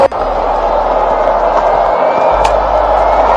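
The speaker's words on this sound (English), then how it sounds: "Crowd has come alive" A cricket stadium crowd roars in a dense, continuous wall of cheering, loud and distant-sounding, with a low steady hum beneath.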